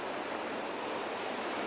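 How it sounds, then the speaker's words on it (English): Big Pacific Ocean waves pound the coast near Pacific Grove, a continuous loud wash of surf with wind noise mixed in and no voices. "sound of the ocean"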